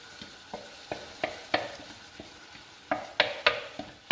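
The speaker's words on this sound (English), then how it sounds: "We're going to add in the sauce and start letting it simmer away and build flavour now." Peanut sauce is stirred into simmering vegetables in a pan, a series of sharp, close utensil scrapes and taps against the pan in an uneven rhythm over a faint bubbling background, with no talking.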